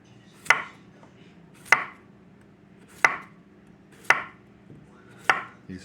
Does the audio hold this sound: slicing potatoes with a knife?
yes